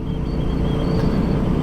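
A Royal Enfield Classic 350 motorcycle thumps along on the road, a loud, steady, low engine rumble with passing wind noise, heard up close without talk.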